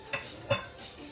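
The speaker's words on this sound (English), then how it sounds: "we're going to start stirring this in and get it all incorporated" Half and half and heavy cream being stirred in a pan, with a utensil scraping and clinking softly against the metal twice over a quiet, faint background.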